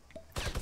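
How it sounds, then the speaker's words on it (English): Fortnite gunfire breaking in suddenly after a quiet moment, a dense, rapid volley of close shots carrying to the end. "How are you still shooting at me?"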